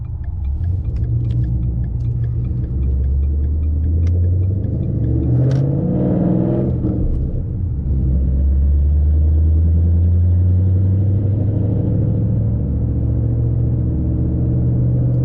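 A Ford Mustang GT S197 V8 rumbles deeply while driving, a loud steady low drone with a brief rise in revs around a gear change, heard from inside the car with no talk.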